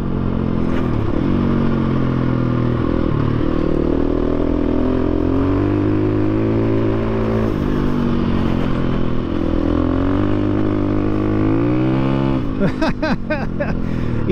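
A 2022 KTM 350 EXC-F dual sport motorcycle riding a dirt road, its engine droning loud and close with shifting pitch as it speeds up and eases off, gravel clatter and wind beneath.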